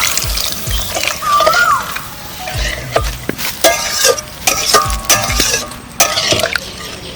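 Water poured and stirred into simmering chicken gravy in a pan for chicken chaap, with a close liquid splashing and stirring texture and scattered clinks of utensil against the pan.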